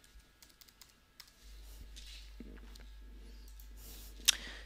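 Light, sparse clicks of numbers being typed on a computer keyboard, close and quiet against a faint room hum, ending with one sharper key press.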